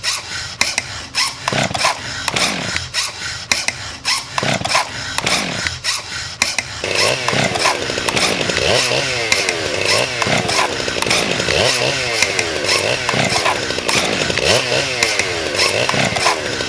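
A chainsaw being serviced before cutting a Christmas tree, with scraping and filing strokes, then a steady, close grinding rasp against the blade chain throughout, fairly loud with no talk.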